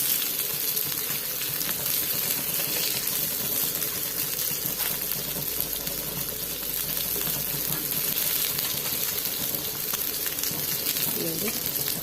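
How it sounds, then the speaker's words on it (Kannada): Sardine fish frying in a pan on a medium flame, a continuous dense hiss and crackle of oil holding steady and fairly soft throughout, with no voices. "ಮೀಡಿಯಮ್ ಫ್ಲೇಮಲ್ಲಿ ಫಿಶನ್ನು ಫ್ರೈ ಮಾಡ್ಕೊಳ್ಬೇಕು"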